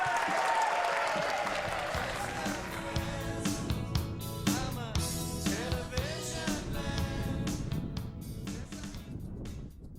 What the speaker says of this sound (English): Round of applause, Richard Whiteley, come on, sing it!